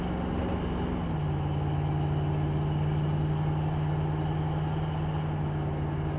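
A 1986 Ford F-150 with a Flowmaster exhaust gives a low, throaty rumble, steady and moderately loud, with the pitch dropping slightly about a second in and then holding an even drone.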